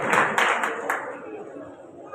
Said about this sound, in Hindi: एक बार जोरदार तालियां आप उनके लिए बजाकर उनका स्वागत करें